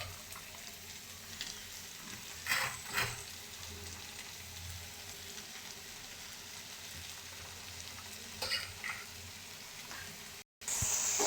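Onion, garlic and green chili fry in hot oil, giving a steady soft sizzle with a few louder bursts of stirring and a brief break near the end.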